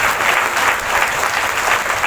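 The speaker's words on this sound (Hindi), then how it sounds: "तारीफ करेंगे जोर से सब लोग, ताली बजाकर।" Loud, steady applause from a church congregation at a healing prayer service, a dense wash of clapping hands sustained throughout with no break.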